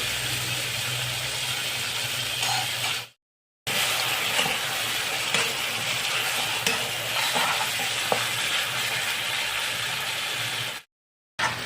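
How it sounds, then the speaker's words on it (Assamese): Chicken pieces with onion and chili frying and being stirred in a pan, a steady loud sizzle with scraping stir strokes throughout, broken by two brief silent gaps. "এতিয়া মাংসখিনি ভাজি ল'ব লাগিব বঢ়িয়াকৈ।"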